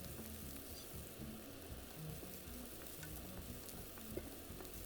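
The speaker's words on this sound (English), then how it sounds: "we're going to use the leftover oil in the pan to fry the onion, garlic, and red peppers" Onion, garlic and red peppers frying in leftover oil in a pan, a faint, steady sizzle and crackle with soft stirring movements, continuous and without speech.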